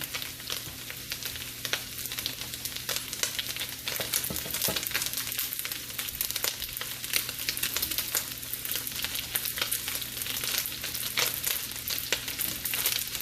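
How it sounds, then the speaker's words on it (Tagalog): Cooked rice frying for chicken fried rice in a hot pan, a continuous dense sizzle with crackling splatters and occasional stirring scrapes, close and steady without talk. "Naririnig yung talsikan."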